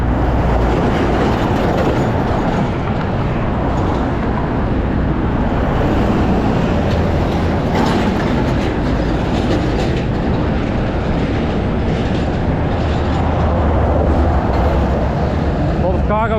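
A cargo train rolls along a railroad track in a port area of Montevideo, a loud, continuous rumble and clatter of rail cars with wind buffeting the microphone throughout.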